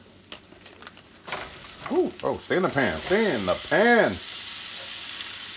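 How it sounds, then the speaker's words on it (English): A pound of 80-20 ground beef drops into a pan of sautéing vegetables, and a loud frying sizzle begins, with a voice talking over it in short phrases before the hiss settles. "Here I got a pound of ground beef. We're gonna add this to the mix."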